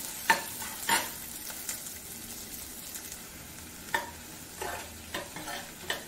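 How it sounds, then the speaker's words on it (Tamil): Chopped onion sautés in a pan for a roasted-gram chutney, a soft continuous sizzle broken by several close scraping stirs of a spoon at irregular intervals. "வெங்காயத்தை நல்லா வதக்கிக்கோங்க"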